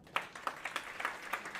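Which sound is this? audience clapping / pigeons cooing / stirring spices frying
audience clapping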